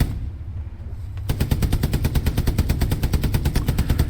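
Tank coaxial and bow machine guns firing in the WWII shooter Hell Let Loose: after a quiet rumble, a loud, rapid, steady stream of shots bursts in and continues without pause.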